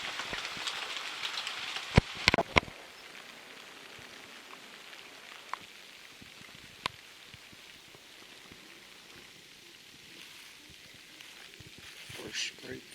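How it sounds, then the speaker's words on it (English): Steady rain falls at an Alabama deer camp, a soft continuous hiss with a few sharp close knocks and drips early on, and a voice speaks briefly amid the patter. "Wait till this rain passes and try to get back out there."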